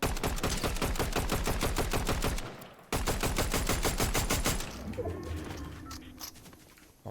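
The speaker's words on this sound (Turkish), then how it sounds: "Şöyle yürürken bu silahla bir vurma keyfisi." Rapid automatic gunfire from a weapon in the Fortnite video game, two long sustained bursts of evenly spaced shots separated by a brief gap, loud and close, trailing into quieter game ambience.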